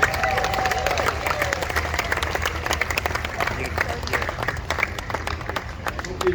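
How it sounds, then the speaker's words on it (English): A rodeo crowd at a Fort Worth, Texas cattle drive applauds in sustained, dense clapping with a few cheers, heard at a moderate distance. "let's give these guys a round of applause if you will."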